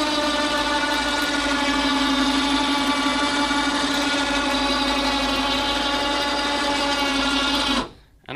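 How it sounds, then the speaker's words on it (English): An electric winch winds up a giant fabric roll-up door, a loud steady mechanical whine and hum running continuously, then cutting off abruptly near the end. "you just come over to this control right here and you just hit the winch up button"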